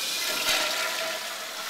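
A 1966 Standard Afwall wall-hung toilet flushing, a loud steady rush of water that swells briefly near the start and then runs on evenly, with no voices.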